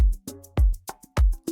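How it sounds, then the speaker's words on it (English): A shaker percussion loop sits in a relaxing desert house groove alongside kick, hi-hat and clap, with bright rhythmic shakes repeating steadily over punchy low beats. "From then on, I added a few shakers that sound like this"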